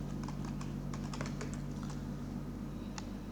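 Keys clatter in a quick run of taps on a computer keyboard as a search is typed, a steady low hum underneath, with a lone final keystroke after a pause.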